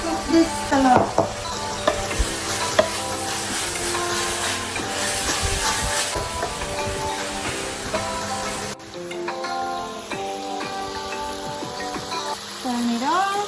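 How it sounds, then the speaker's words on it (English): Eggplant (talong) frying in oil on an induction cooktop, a continuous sizzle with stirring clatter, while someone speaks over the cooking noise and background music plays. "I'm going to cook this talong"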